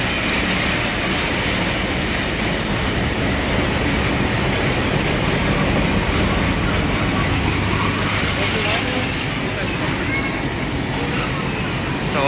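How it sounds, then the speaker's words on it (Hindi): Train arriving at a station platform where passengers wait, a steady loud rumble and roar of the passing cars filling the whole stretch without letting up, with a faint high squeal near the end. "ट्रेन आई आई आई आई आई आई आई ए आई, ट्रेन सारी आ गई है, तो देख सकते हैं आप।"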